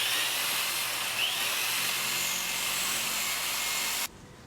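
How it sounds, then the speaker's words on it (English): An electric drill machine bores holes into a wall, giving a loud, continuous high whine that holds steady for about four seconds and then cuts off abruptly, leaving quiet. "Start drilling."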